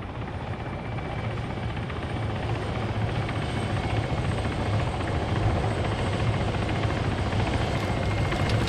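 A video game helicopter thrums steadily throughout, a continuous rotor drone at even moderate loudness with no talk over it.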